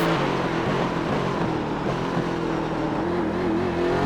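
A race car engine runs flat out in fifth gear on the Sebring International circuit, a loud, steady high-pitched drone with slight pitch shifts as the throttle is worked.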